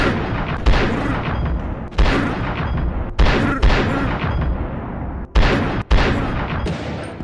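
Loud RPK machine gun bursts in the Battle Talent VR game: several sharp strings of rapid automatic fire, each ending abruptly, with short pauses between bursts and no talk.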